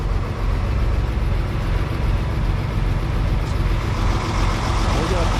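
A concrete truck's engine runs steadily at a large house slab pour in Texas, a loud continuous low rumble close by with no letup.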